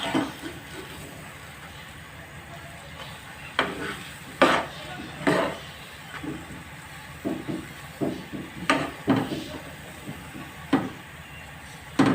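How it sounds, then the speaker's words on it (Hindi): Chana dal halwa being roasted in a pan, with a spoon scraping and knocking against the pan in irregular bursts, loudest in the second half, with no talking. "थोड़ा सा मैं इसको और भून लेती हूँ, क्योंकि जितना अच्छे से हम इसको भूनेंगे उतना ही अच्छा रिज़ल्ट आएगा।"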